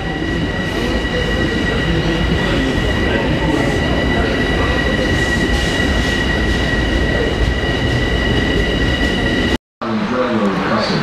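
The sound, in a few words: train crossing over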